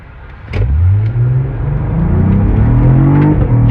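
A Cadillac CT4-V Blackwing with 472 horsepower launches hard from a standstill, its engine roaring loudly and rising steadily in pitch through the gears in a sustained, close full-throttle sprint.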